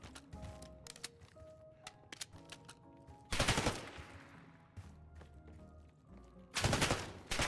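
Gunfire in Black Ops 6 ranked play: rapid automatic bursts and single shots crackle throughout, with two loud sustained volleys of firing amid scattered clicks and footsteps.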